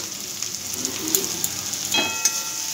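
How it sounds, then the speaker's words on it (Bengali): Masala of ground coriander, cumin and turmeric sizzles in hot oil while being sautéed for a fish chilli dish, a steady close frying hiss broken by a few light scrapes and clinks of stirring. "এরপরে আবারও আমি খুব ভালো করে কষিয়ে নিচ্ছি। মশলাটা খুব ভালো করে কষিয়ে নিয়েছি।"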